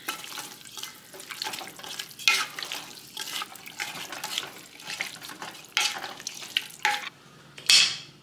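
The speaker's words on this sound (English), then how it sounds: "Give this a stir." Black beans get stirred into a pot for a homemade vegetable dish, heard as irregular, close bursts of wet scraping and sloshing with a sharp clink near the end.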